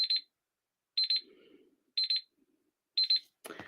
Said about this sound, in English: Ah, a timer.